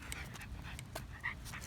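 A dog pants steadily and rapidly while out getting exercise, the breathy panting close and continuous, with a brief whimper-like tone, against an outdoor background.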